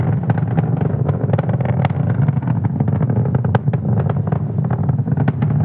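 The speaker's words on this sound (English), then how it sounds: "we're going to be throttling down the engines in preparation for max Q" SpaceX Falcon 9 rocket engines roaring during ascent on the ASTRA 1P mission, a loud, continuous low rumble with crackling bursts, heard far off without talk.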